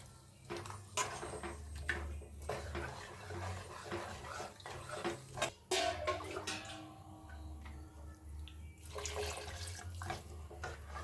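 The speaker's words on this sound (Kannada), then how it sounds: "ಈಗ ಎಷ್ಟು ನೀರು ಬೇಕೋ ಅಷ್ಟು ನೀರು ಹಾಕಿ ಸಾಂಬಾರು ಹೆಚ್ಚಿಸ್ಕೊಳ್ಳೋಣ." Water poured into a pot of dal sambar, a continuous close pouring and splashing with a few clinks of pots and utensils, with no talk.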